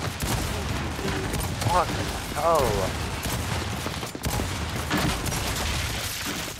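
Gunfire from the Gears 5 video game: dense bursts of shots and rumbling booms fill the whole stretch, loud and continuous, with a player's voice talking over the battle.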